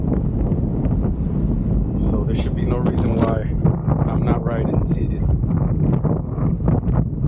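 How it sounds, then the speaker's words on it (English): Gusty wind buffets the microphone in a constant low rumble while someone talks over it. "Especially for windy days, like this day was pretty windy."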